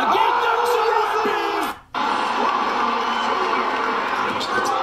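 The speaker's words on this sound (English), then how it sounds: "Sent it in. Crowd goes crazy." A basketball arena crowd roars and cheers loudly after a dunk, a dense sustained wall of voices with one brief drop before the noise surges back, while someone talks over it.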